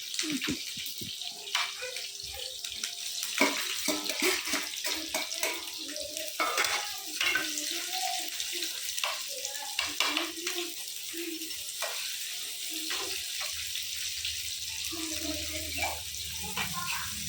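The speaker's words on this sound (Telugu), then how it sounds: "ఆనియన్స్ బాగా వేయాలి బ్రౌన్ కలర్ వచ్చేంత వరకు వేగితే బాగుంటుంది" Onions fry in a pan for chicken curry, giving a soft, continuous sizzle with occasional stirring clatter and scrapes, fairly quiet and close, with no talk.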